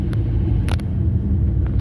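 Very old Maruti car, roughly a 1995 model, giving off a steady low engine rumble nearby with a few brief higher clicks or knocks over it, no one talking.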